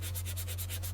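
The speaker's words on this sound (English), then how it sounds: "for the drawers, I started off hand sanding. I think this is 120 grit." Hand sanding of a wooden drawer on a vintage antique desk with 120 grit sandpaper, quiet rhythmic back-and-forth rubbing strokes, close and even, with a steady low hum underneath.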